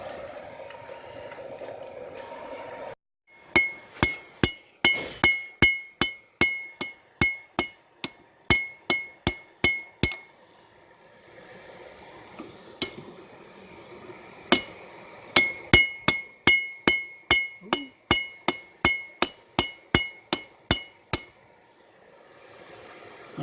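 A forging hammer lightly taps hot metal in two bursts of sharp, ringing strikes, roughly a dozen evenly spaced blows each, separated by a short quiet pause, up close and loud.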